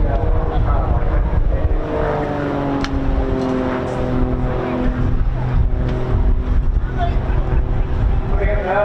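Small carbon composite aircraft with a 140 horsepower engine performing at an airshow, its steady droning tone shifting in pitch as it passes, loud and continuous, with a commentator talking over it and crowd murmur beneath.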